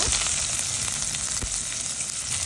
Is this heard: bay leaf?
yes